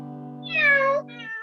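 A singer's voice imitates a small cat's meow, one drawn-out rising-and-falling cry followed by a shorter second mew, sung clearly and close over a sustained low tone.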